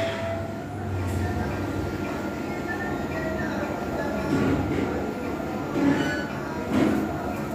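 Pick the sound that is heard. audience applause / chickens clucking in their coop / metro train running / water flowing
metro train running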